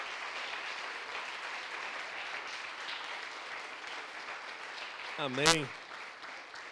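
A church congregation at a worship service applauds in a broad, steady wash of clapping, and a voice says a brief word over it near the end.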